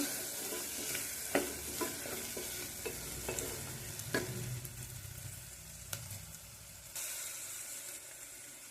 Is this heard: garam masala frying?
yes